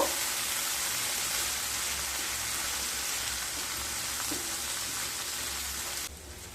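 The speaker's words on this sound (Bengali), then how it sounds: "দিয়ে আবারও কষিয়ে নেব" Turmeric, Kashmiri chili powder and ginger paste sauté in a pan for a doi pabda fish curry, giving a soft, steady sizzle at low level that drops slightly near the end.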